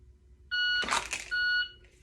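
Sharp electronic shot timer beep during handgun draw practice, a loud tonal tone that starts abruptly, is briefly masked by a burst of noise, then resumes before cutting off.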